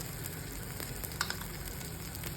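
Mixed-lentil appe fry in plenty of oil, giving a continuous bright sizzle and crackle with a couple of sharper pops, close and steady with no talk.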